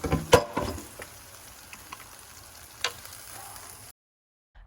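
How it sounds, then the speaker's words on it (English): Chicken wings sizzle quietly in a pan with a soft crackling hiss, punctuated by a few clinks and utensil taps before cutting to silence. "I hope y'all heard that sizzle."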